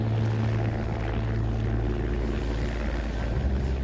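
A helicopter's rotor and engine drone steadily and loudly throughout, close overhead, with a constant low thrum and no pauses.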